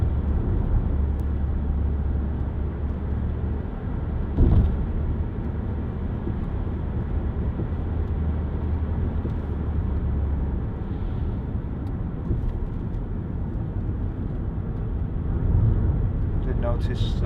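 Mazda 5 1.8 TS2 five-door hatchback on the road, a steady low engine and road drone heard from inside the cabin, with a gear change partway through and a voice talking over it.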